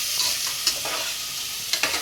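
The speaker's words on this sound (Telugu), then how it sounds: "పోపు దినుసులు వేగిన తర్వాత మనము అలసంద ముక్కలు, క్యారెట్ ముక్కలు వేసుకోవాలి" Cowpea and carrot pieces sizzle in hot oil with tempering spices, a steady close frying hiss with a few crackles and stirring scrapes, no voices.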